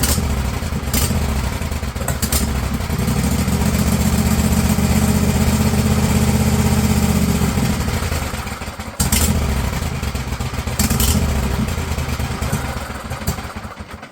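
An old Husqvarna small engine, with a cleaned carburetor but stale fuel after a month unused, runs with a loud, steady, clattering idle close by, briefly dropping out near the middle before picking back up.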